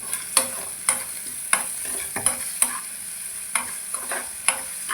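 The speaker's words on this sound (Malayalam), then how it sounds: "നമുക്ക് ഇളക്കി ഒന്ന് മൂപ്പിക്കാം." Onion, garlic and green chili fry in a pan for egg curry while a spoon stirs them, its regular scraping knocks landing about twice a second over a constant close sizzle; no voices.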